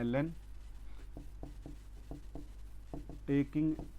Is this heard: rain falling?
no